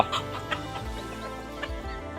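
Short-legged bantam chickens of black-and-white, black and yellow plumage cluck nearby in a home yard, giving a few soft low clucks spaced out over a quiet background.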